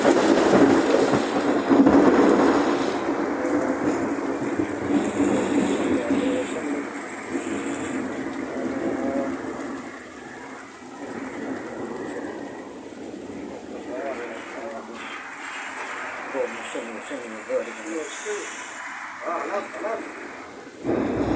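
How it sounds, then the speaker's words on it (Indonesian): Strong wind and heavy rain lash down at night in Jeddah, Saudi Arabia, a steady broadband roar that holds through the whole stretch with gusts swelling and easing, while a person talks over the storm. "Angin guys, angin kencang sama hujannya ya Allah."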